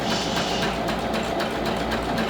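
Steady, fast mechanical whirring and knocking of a sewing machine back stitching a mini handbag, close and continuous with a faint rhythmic clatter, no talk.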